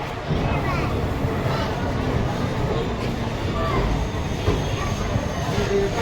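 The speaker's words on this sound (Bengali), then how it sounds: "এখান থেকে অনেক প্যাসেঞ্জার ট্রেনে উঠতে চলেছে" Passenger train at a crowded railway station: a steady rumble with station bustle and murmuring voices runs at an even level throughout, with people talking in the background.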